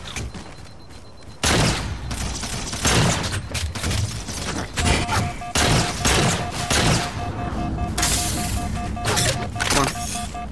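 Gunfire in Halo 4 gameplay, with repeated bursts of loud shots and booms arriving in clusters across the clip under a steady game background, with no voices over it.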